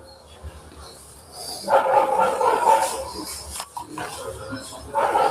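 Dog barking indoors in a few clustered bursts, a loud run of barks after a quiet start, then a pause and another short outburst near the end.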